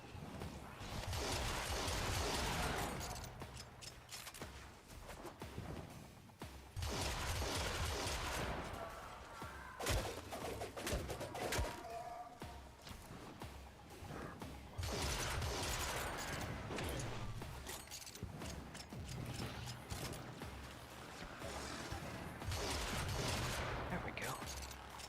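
Corpus turrets firing in Warframe: long stretches of loud, dense automatic fire and impacts, coming in repeated bursts with brief lulls between them, heard up close over about 25 seconds.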